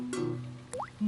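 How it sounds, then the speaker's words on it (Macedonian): Cartoon water drops falling into a bucket: a few soft plops and a rising bloop, with a low tone held underneath. "Тато прасе ги лови капките вода со кофа."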